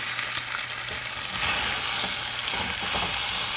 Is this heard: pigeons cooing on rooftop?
no